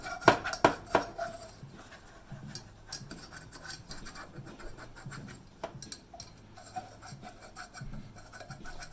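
Flour is whisked into hot butter in a pan for a mac and cheese sauce, heard as sharp metallic clinks at first and then soft, irregular scraping and stirring scratches close by.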